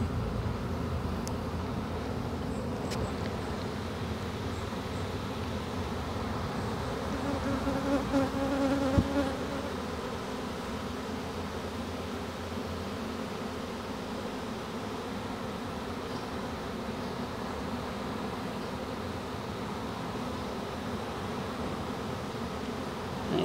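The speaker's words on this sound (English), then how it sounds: "all the bees fanning like this" A dense, steady hum of a honeybee swarm fanning together, constant and fairly close, with no voices.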